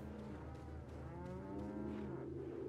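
A cow in the Resident Evil 4 video game lets out a long, drawn-out moo, steady and fairly loud, over a constant low game ambience with no talking.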